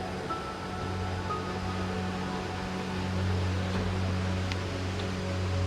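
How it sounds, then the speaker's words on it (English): Babbling water of the Pa La U waterfall in Kaeng Krachan National Park, Thailand, a steady broadband rush with a low hum that swells slightly louder toward the end, with no voices. "As you can hear from the growing louder sound of the babbling water, we are slowly approaching the next level."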